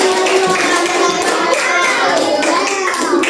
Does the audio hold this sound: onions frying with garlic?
no